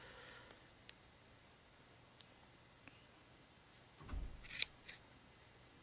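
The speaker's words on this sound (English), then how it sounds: "Just trim them up, just kind of go around and give them a little haircut." Scissors snip a few times at a yarn pom pom, quiet isolated clicks followed by a short cluster of sharper, closer cuts.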